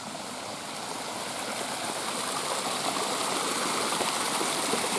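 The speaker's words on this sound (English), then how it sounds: "Listen to the water." A forest stream flows steadily nearby, its water rushing in an even, continuous broadband hiss that swells slightly louder over a few seconds, with no voices.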